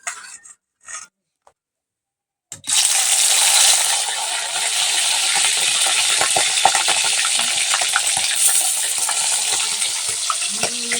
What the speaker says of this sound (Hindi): तो अभी यहाँ पर हम डाल दिए हैं तेल और डालते हैं यहाँ पर अब हम मछली। तो इसमें हम हल्दी वगैरह नहीं डाल रहे हैं, बिना हल्दी का ही हम फ्राई करेंगे